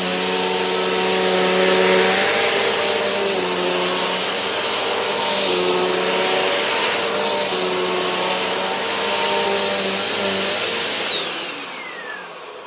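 Bissell Powerforce Compact vacuum cleaner running over carpet strewn with oats: a loud, steady motor whine with slight swells, dropping away near the end, no voices.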